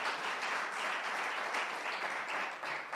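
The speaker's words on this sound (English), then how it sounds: "Aplauda con gozo para su Señor." A church congregation claps in a sustained, even burst of applause, moderately loud and crowded, with no speech over it.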